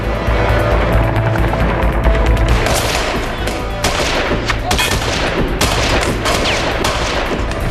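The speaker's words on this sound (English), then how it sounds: "So far, we have 1 Tango firing rounds at my paws." Rapid gunfire from an AK-47 rattles in bursts during a combat mission exercise, loud and dense with sharp cracks, mixed with engine or rotor rumble in the background.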